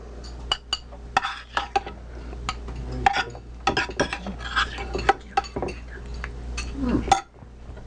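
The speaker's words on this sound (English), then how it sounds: "now, Mark, or the cameraman, dishes out" Food being dished out at a home meal with vegetables and soup, with sharp clinks of cutlery against plates and dishes repeating irregularly, close and fairly loud, and a few faint voices in the background.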